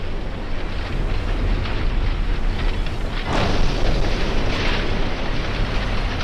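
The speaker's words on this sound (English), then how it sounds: "the ship collisions are hurting my ears through the headphones" Warships colliding in the naval battle game Ultimate Admiral: Dreadnoughts, with an 1890 Chinese Empire fleet: a continuous low rumble broken by a loud, heavy booming crash partway through, dense and close with no talk.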